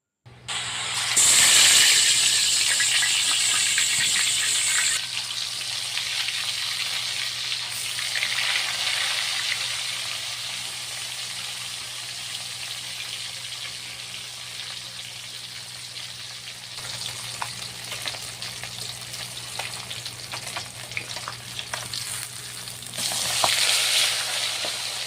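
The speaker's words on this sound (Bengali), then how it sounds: "তেল দিয়ে প্রথমে মাছগুলো ভেজে নিব।" Tilapia fish frying in oil in a pan over a clay stove, a loud steady sizzle and hiss that runs throughout with small bursts of spatter and crackle.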